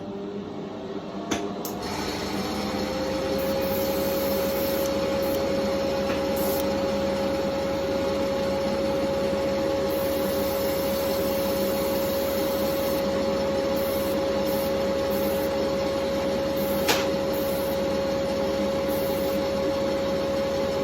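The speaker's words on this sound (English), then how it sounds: "Get the vent going." A ventilation fan switched on in a workshop where solar panel parts are being glued, starting up and then running as a loud, steady drone with a constant tonal whine, alone for about twenty seconds.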